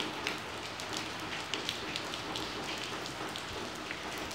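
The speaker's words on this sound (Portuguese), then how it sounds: "tá chovendo bastante aqui na cidade de Ouroeste" Heavy rain falls steadily over the town of Ouroeste, Brazil, a dense continuous hiss with scattered drop taps, no talk.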